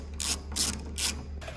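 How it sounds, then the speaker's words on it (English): A ratchet wrench clicks in about four short rhythmic bursts while removing 10 millimeter bolts from the door of a Mazda FD RX-7, close and clear with no talking. "So after you remove the 10 millimeter bolts"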